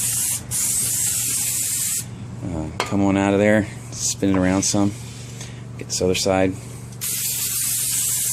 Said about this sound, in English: You just take your cleaner and just kind of spray it down.